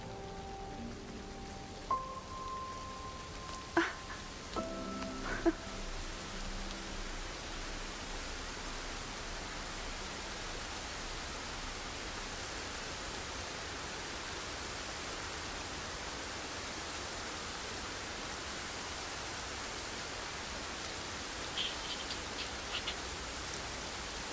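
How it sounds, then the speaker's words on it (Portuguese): Steady, dense rain in the video game Jusant hisses evenly throughout, with a few soft tonal chimes early on before the downpour continues alone. "Depois de tanto tempo, chuva."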